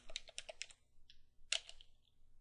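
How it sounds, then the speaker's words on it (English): Keystrokes on a computer keyboard entering a command in a Linux terminal, a quick burst of clicks followed by a pause and a louder final key or two, close and quiet with no talking. "Now let's type in uLimit"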